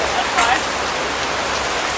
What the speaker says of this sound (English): Look at all this rain.